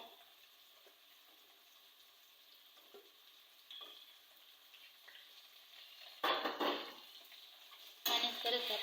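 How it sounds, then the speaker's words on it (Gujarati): Capsicum and onion sauté in hot oil, a faint low sizzle at first, then two louder bursts of frying and stirring near the end. "તેલમાં સાતળવાનું છે એકદમ સરસ ચડી જાય બધું"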